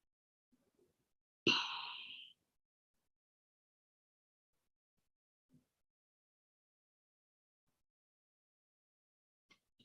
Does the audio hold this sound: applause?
no